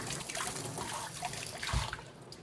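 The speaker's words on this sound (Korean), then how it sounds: "마늘은 이렇게 담아서 이렇게 비비듯이 씻어주셔도 됩니다." Garlic being rubbed and washed by hand in a bowl of water while preparing a tomato sauce, a close continuous sloshing and trickling with a small splash near the middle.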